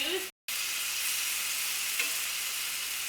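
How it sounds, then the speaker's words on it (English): Pork chops sizzle in their own juices in a pan over medium-low heat, a steady close hiss broken briefly by a moment of silence. "let these cook in their own juice"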